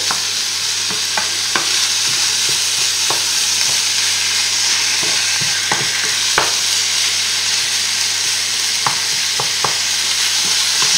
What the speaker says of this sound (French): Là, on fait en sorte de bien mélanger.